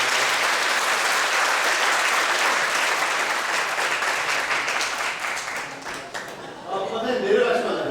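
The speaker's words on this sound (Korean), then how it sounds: "권사님께 박수 한번 주시기 바랍니다" A church congregation at an anniversary worship service gives sustained, full applause for a retiring deaconess; the clapping thins toward the end as a voice speaks.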